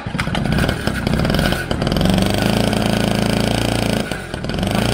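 A small moped engine revs loudly and raspily, rising and dipping in pitch, close by.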